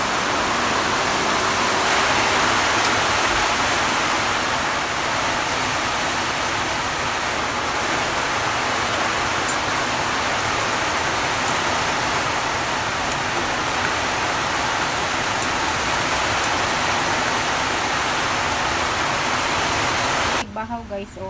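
Heavy rain pours down in a dense, steady roar that fills the whole stretch without a break, cutting off abruptly at the end.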